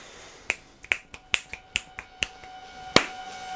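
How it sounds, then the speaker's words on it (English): About nine sharp hand claps or snaps, made as a sync clap for aligning footage in editing, crack out one after another at an uneven pace, close and crisp in an otherwise quiet room. "Sync clap"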